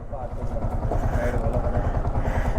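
A repaired motorcycle engine, rebuilt after a deadly crash, runs with a rough, uneven throb that falters as if sputtering toward cutting out. It is close and steady in loudness, with people talking over it.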